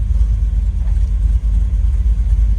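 A 1972 Ford F-250 Ranger 4x4 idling right after a hot start, a steady low rumble that stays close and even with no revving, no voices.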